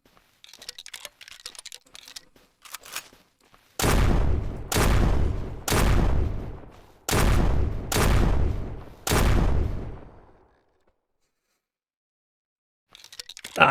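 A Famas rifle fires full auto in the zombie shooter Surroundead: six loud, close bursts of rapid automatic fire, each under a second with short gaps between, after a quieter stretch of faint game noise.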